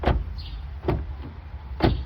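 The door of a parked Honda S2000 thumps shut three times, dull solid knocks spaced roughly a second apart, close by and with no talking.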